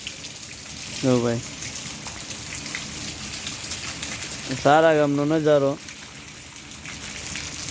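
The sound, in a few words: rain falling in a village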